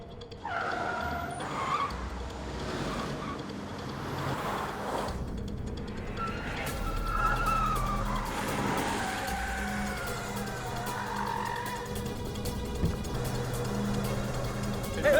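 In a film chase scene, a car overtakes another, with a steady roar of engines and drawn-out tire skidding, and wailing sirens mixed into the busy, continuous racket.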